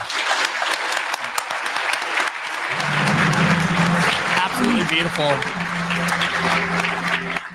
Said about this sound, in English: I just keep clapping now because I'm pumped about it.